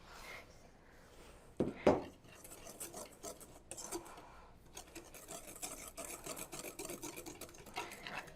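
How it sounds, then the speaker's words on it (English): Dry ingredients for madeleines are whisked together in a pan, making quick, faint, rhythmic scraping. A brief louder clank comes near the start. "And then whisk to combine."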